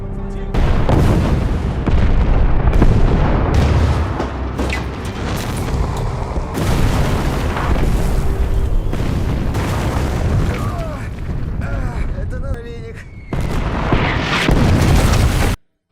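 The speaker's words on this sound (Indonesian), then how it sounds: "Serangan bertubi-tubi dari artileri berat Jerman masih cukup jauh dari lokasi parit." Heavy German artillery barrage on a distant battlefield near trenches, a dense continuous roar of deep booms and blasts layered over each other. Indistinct voices surface in the din before a brief drop near the end.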